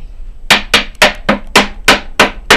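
Repeated hammer blows joining wooden beehive super boards, about eight sharp, evenly spaced knocks close by with no talking.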